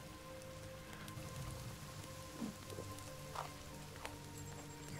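Rain falls in the survival video game The Forest, a faint, continuous patter with scattered droplet ticks over a low ambient game hum, with no voices.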